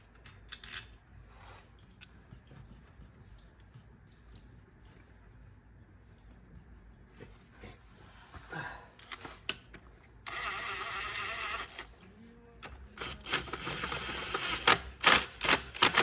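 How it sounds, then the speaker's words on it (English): A torque wrench tightens bolts on a Polaris 500 with a series of sharp, quiet metallic clicks and ratcheting bursts close by, growing louder and denser toward the end. "torquing these to about 8 foot-pounds"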